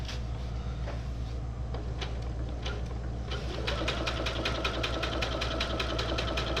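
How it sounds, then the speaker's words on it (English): A sewing machine stitches a fishing rod tube cover. Faint scattered clicks come first, then the motor speeds into a fast, steady, close stitching rattle over a low hum. "This machine will sew way, way, way, way, way faster."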